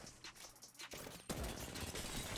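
Rapid bursts of gunfire in the video game Apex Legends, turning into dense, continuous automatic fire partway through; fairly faint overall, with no talking.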